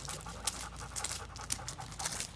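A Labrador retriever panting during an advanced board-and-train session, with rapid breathy pulses in a steady rhythm, close and moderately loud against a constant low background rumble.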